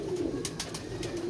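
Pigeons coo in a low, steady rolling tone throughout, close by, with a few sharp clicks and light flutters mixed in. The birds are a rare breed kept by a fancier, including dark birds and some white ones.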